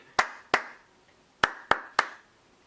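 Five sharp, separate hand claps ring out close by in an uneven rhythm, each with a short room tail, and no voices.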